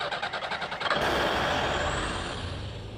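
A big truck rumbles close by, with a rhythmic pulsing engine at first, then a sudden loud surge of broadband engine and air noise that holds steady and slowly eases.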